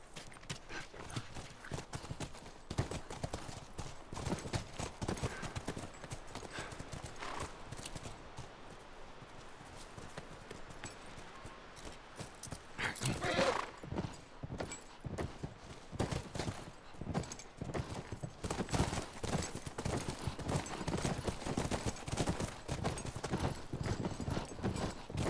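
Horse hooves clip-clop steadily along the ground in The Last of Us, a soft, continuous rhythmic plodding at moderate distance with faint rustling, no talking over it.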